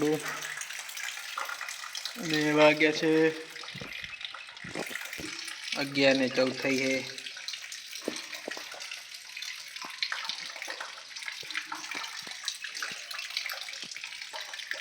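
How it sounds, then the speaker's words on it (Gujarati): Excess water spills steadily out of a filled irrigation bed in a village field, a continuous rushing wash that runs through the whole stretch, with a voice speaking over it in two short bursts. "પાણી ભરી દીધું છે હવે ઉપર ક્યારબો ભરી ગયો છે તે વધારાનું પાણી બહાર નીકળે થોડું"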